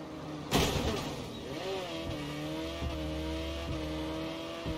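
Car engine in the Saints Row: Platinum Edition video game, a sharp screech or impact near the start, then a steady revving motor with shifting pitch and faint tire noise, loud and continuous with no talk.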